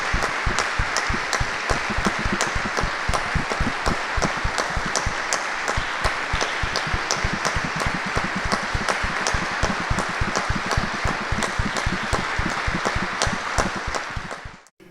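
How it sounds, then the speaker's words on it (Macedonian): A crowd applauds in tribute at a memorial five-a-side football tournament, a dense, sustained wash of many hands clapping steadily at close range for the whole stretch before fading out at the very end. "би ве замолил со еден минутен аплауз да му одадеме почит на Сашко"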